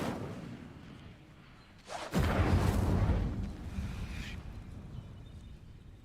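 A fiery burst from an Incendio spell cast in a wizarding video game: a sudden whooshing blast that flares up loud, roars for a couple of seconds, then settles into a lingering crackling rumble.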